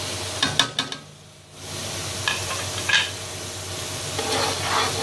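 Masala with tomato puree and spices frying in a pan for kofta curry, a steady close sizzle broken by a few scraping stirs and clinks of the spoon.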